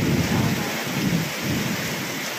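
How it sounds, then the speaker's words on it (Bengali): A heavy evening thunderstorm pours dense rain, with a low rumble of thunder rolling under the steady hiss of downpour. "এখন বিদ্যুৎ চমকাচ্ছে, বৃষ্টি হচ্ছে"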